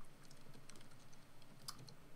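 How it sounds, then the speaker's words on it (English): Quiet computer keyboard typing, a run of light rapid key taps with small irregular gaps, faint and close, no voices over it. "I hear you typing."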